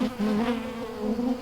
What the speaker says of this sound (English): We're a good ways from their hive and they're still swarming us.